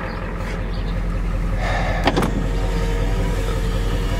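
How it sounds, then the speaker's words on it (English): A Ford F-250 pickup with the 7.3 IDI diesel spins a tire in snow, giving a steady, loud engine drone with a whining, rushing spin and a brief sharper burst midway. "You see the tire she's burning there in the snow?"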